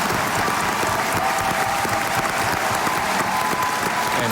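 A large audience at the Scripps National Spelling Bee finals in Washington, D.C. bursts into sustained, dense applause and cheering, a steady loud wash of clapping that fills the whole stretch without letup.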